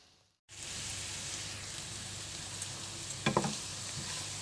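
Sliced onions fry in a pan with a steady, close sizzle throughout, broken briefly by a quick stir or clatter near the end; no one speaks.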